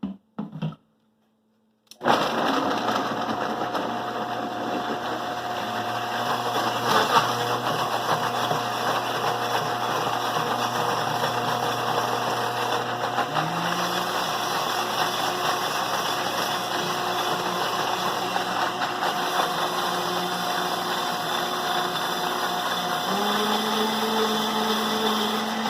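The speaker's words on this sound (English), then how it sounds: "This is going to get noisy when I turn my blender on" Kitchen blender mixing a vegan smoothie, a loud continuous motor whir running alone for about twenty seconds, its pitch stepping up and shifting a few times.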